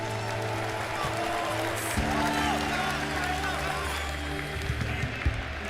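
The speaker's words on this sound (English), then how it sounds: "Can we give a big round of applause for Xingqiu and Extreme Gaming?" A crowd at an esports tournament applauds throughout, a steady wash of clapping with some low rumbling underneath and occasional louder bursts near the end.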